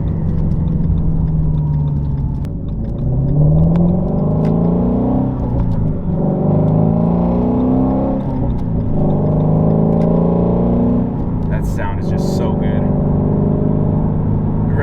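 A 2016 Shelby GT350 engine revs up again and again, its pitch climbing high in long sweeping pulls with loud, close exhaust, and a voice talks over it throughout.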